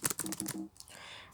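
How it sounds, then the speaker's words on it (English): A quick burst of keyboard-like clicks clatters close by, then gives way to a softer hiss: a character's voice and attack sound effect in a Dragon Ball video game. "basically like a keyboard clicking."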